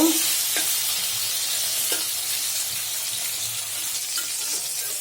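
Pointed gourd (potol) stir-fries in a pan with a steady, close hiss of sizzling oil, broken by a few light scrapes and knocks as the pieces are turned.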